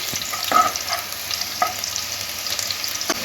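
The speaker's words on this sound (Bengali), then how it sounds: "তেলের মধ্যে দিয়ে দেবো রসুন কিমা। রসুনটা একটু হালকা করে নাড়াচাড়া করে নিচ্ছি" Minced garlic sizzling in hot white oil while being stirred gently, a steady close frying hiss broken by light spatula scrapes and taps.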